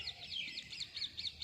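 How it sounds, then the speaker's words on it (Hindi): Birds and parrots chirp in a gooseberry tree in the morning, a continuous overlapping stream of rapid high tweets, fairly faint and outdoors with no talk. "सुबह सुबह बाहर बैठ के इन चिड़ियों की चहचहाहट सुनना बड़ा ही मीन्स बहुत ही अच्छा लगता है।"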